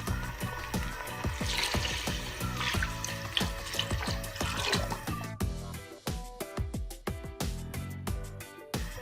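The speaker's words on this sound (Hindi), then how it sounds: "साथ ही पानी भी डाल देते हैं।" Water is poured into a pot of rice for lobia pulao, a continuous rushing, splashing pour that is loud and close and runs almost the whole time, with no talk over it.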